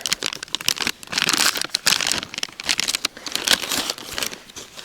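Close, loud crinkling and rustling of plastic bags being handled and folded back into a fishing bag beside a pond, in irregular crackling bursts.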